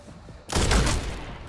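A sniper fires in the first-person shooter Redfall, and after a quiet moment a sudden loud burst of gunfire erupts and rumbles on heavily to the end.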